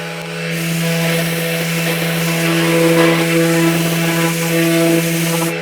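A Festool RTSC 400 cordless sander runs with 180 grit on wood, a loud steady close hum with rough rubbing texture throughout, no voices.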